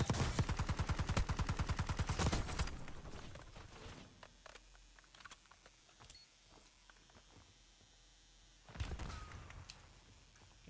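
Rapid automatic gunfire in the battle royale game Apex Legends, a loud, dense burst of closely spaced shots for about three seconds, then scattered single shots and quieter game noise, and another short loud burst near the end.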